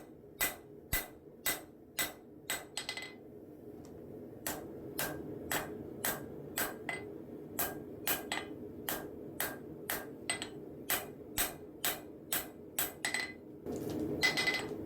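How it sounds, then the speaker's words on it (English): A hammer strikes a hot steel knife tip on an anvil in steady, evenly spaced ringing blows, about two per second, with a brief pause midway, close and clear over a low workshop hum. "I'm kind of angling the steel and hitting down at an angle to kind of help mush that steel together down towards the anvil"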